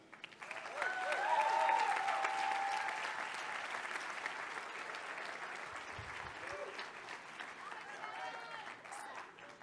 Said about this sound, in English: Please join me in welcoming Hisham Youssef.